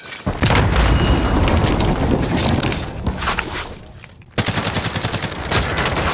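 Gunfire in Call of Duty Warzone, loud and nearly continuous, with rapid bursts and booming shots, a brief pause and then more bursts, while players talk over the action.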